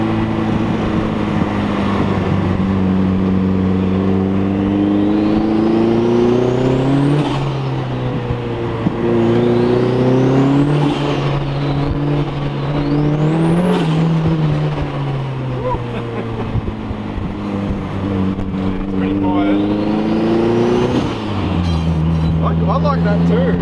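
A turbocharged Datsun 510 with a big turbo and custom airbox revs and accelerates up a hill, its blow-off valve recirculating into the intake; loud, repeated rising engine pulls and drops heard from close by, with voices in the car.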